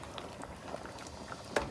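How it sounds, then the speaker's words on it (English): Lasagna sauce boils in a pot with faint, irregular bubbling pops and a soft simmering hiss, and one slightly louder pop near the end. "And the sauce is boiling away."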